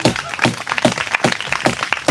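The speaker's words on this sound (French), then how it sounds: "Applaudissez-vous, frères et sœurs." Congregation applauding inside a church during a sermon, a dense steady patter of many hands clapping together, fairly close and sustained with no voices over it.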